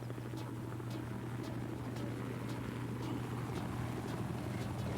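A military helicopter in Battlefield 4 drones steadily and close, its rotor thumping in a regular rhythm over a constant low engine hum.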